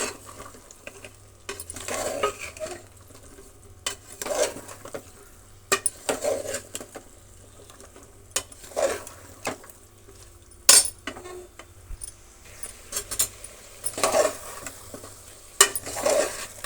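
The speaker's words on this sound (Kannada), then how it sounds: "ತರಕಾರಿಯನ್ನು ಚೆನ್ನಾಗಿ ಮಿಕ್ಸ್ ಮಾಡೋಣ." Mixed vegetables being stirred into masala in a pan for vegetable egg pulao, repeated clinks and scrapes of a metal spoon against the pan over a soft frying sizzle, no talking.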